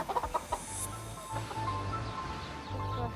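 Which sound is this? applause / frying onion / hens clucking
hens clucking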